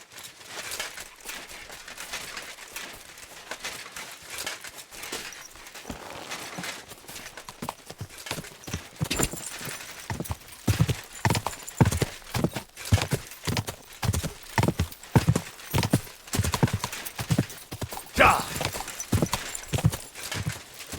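Horse hooves in the video game Kingdom Come: Deliverance 2 clop in a steady, rhythmic trot, faint at first and then growing louder and closer, with a brief whinny.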